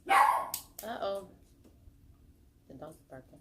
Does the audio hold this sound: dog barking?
yes